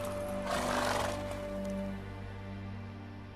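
Roach, Geralt's horse in The Witcher 3, gives a close neighing whinny over steady hoof and ambient game noise, fading into a soft background hum.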